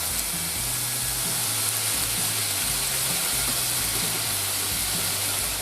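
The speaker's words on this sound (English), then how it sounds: "Just fry them for a few minutes until the onions become a little bit translucent" Chopped onions and bacon frying over medium-high heat in a dry frying pan, a steady loud hiss and crackle that fills the whole stretch with no talking.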